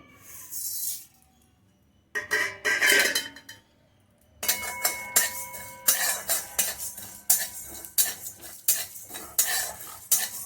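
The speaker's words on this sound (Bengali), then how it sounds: "কড়াইটা আমার গরম ছিল, সেই কড়াইতে আমি এগুলোকে মশলাগুলোকে দিয়ে 2 মিনিট মতো রোস্ট করে নিলাম।" Coriander, fennel, cumin and dried chillies dry-roasting in a hot wok, with bursts of metal stirring scrapes and light clinks that start, pause briefly, then continue in a quick irregular rhythm up close.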